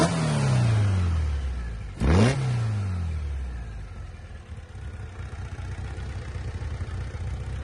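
A 1968 Volkswagen Beetle with a boxer engine and twin Weber carburettors revs up close. Its pitch falls away, then it blips sharply once before settling into a rumbling idle.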